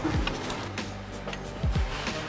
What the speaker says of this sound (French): Serre-le. Tiens bien la visseuse.